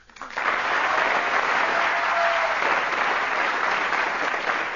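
Studio audience at a radio comedy panel show applauds loudly and steadily, a dense sustained wash of clapping that swells in quickly and holds at full strength throughout.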